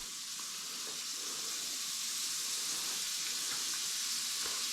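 Butter sizzles in a cast iron pan with a steady, bright hiss and occasional soft pops, close and even throughout, and no voices.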